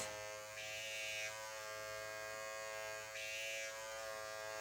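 A microneedling pen buzzes steadily during a skin treatment, a constant high electric whine close by that shifts slightly in pitch as it moves.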